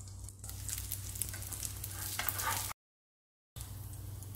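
Flattened-rice adai dosa sizzles steadily on a hot pan with ghee or sesame oil, a close, even crackling hiss that cuts out briefly and then resumes.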